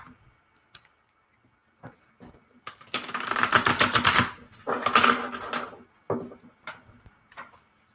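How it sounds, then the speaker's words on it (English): Tarot cards being shuffled, a few soft taps at first, then two dense riffling bursts of papery rattling close by, followed by scattered light clicks and taps. "I'm going to shuffle my cards again."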